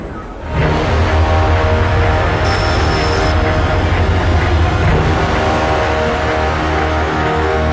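A train in the Hitman Absolution video game rumbles loudly and continuously with a rolling, clattering drone, and a brief high tone rises partway through.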